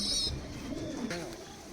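Giribaj pigeons coo softly in a loft, a short low murmuring call close by, with a brief high chirp at the start.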